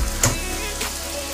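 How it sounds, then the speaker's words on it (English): Penne pesto pasta stirred in a hot pan, a short close scrape and soft sizzle with two quick strokes. "Give it another stir."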